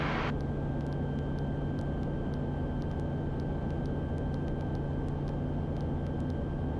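Engine drone of a Kitfox light aircraft in flight close to another plane, a steady even hum with a constant tone throughout, fairly faint and unbroken, no speech.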